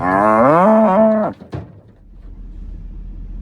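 A cow on a ranch lets out one long, loud, close moo lasting over a second, followed by a thud and quiet outdoor background.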